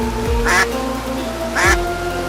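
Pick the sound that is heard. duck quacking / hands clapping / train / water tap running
duck quacking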